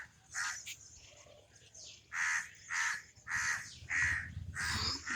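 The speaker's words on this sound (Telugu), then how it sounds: "కాకులు స్టార్ట్ చేసిన." Crows caw in a series of harsh, loud calls, several in quick succession with short pauses between them, close by over a quiet low hum.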